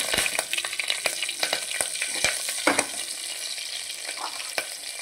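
Thinly sliced long green chilies frying in hot oil with cinnamon, cloves and cardamom, a dense continuous sizzle and crackle broken by frequent sharp pops and the light scrape of a stirring spoon.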